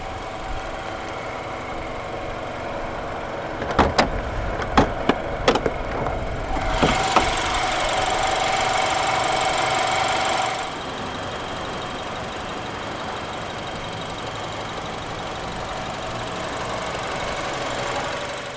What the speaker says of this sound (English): The Z4 sDrive20i is powered by BMW's N20 B20 2-litre dual overhead cams, 16 valves, turbocharged inline-4 engine